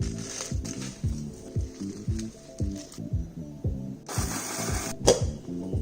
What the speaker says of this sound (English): Okay, so I removed as much as I could and let's grind them.